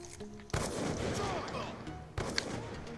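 In Black Ops 2, two loud gunshots burst out a couple of seconds apart, each with a rough, noisy tail, while a player's voice talks faintly underneath.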